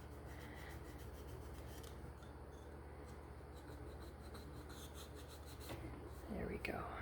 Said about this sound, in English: if you take your nail underneath that baby wipe, you usually can rub that off as long as you haven't put too much paint on the edge